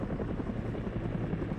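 A helicopter in the military video game ARMA 3 roars with a steady, throbbing rotor chop, loud and continuous at a fairly close distance with no talk over it.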